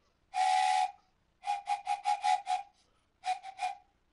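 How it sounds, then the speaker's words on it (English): A steam-style train whistle sounds alone in three bursts: one long blast, then a rapid string of short toots, then a few more short hoots, moderately loud against near silence. "hearing a train coming."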